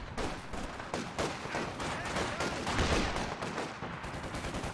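Sustained light machine gun fire from massed infantry in Company of Heroes 2, a dense, continuous rattle of overlapping bursts that stays fairly loud throughout, with no clear talk over it.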